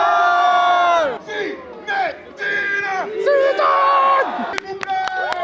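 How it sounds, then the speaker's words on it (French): Crowd cheering and whooping for Zinedine Zidane, loud voiced shouts and cries rising and falling, with a few sharp claps near the end. "Merci d'applaudir Monsieur Zinedine Zidane à la maison."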